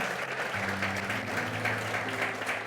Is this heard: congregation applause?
yes